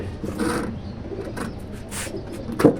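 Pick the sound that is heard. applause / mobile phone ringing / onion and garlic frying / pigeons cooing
pigeons cooing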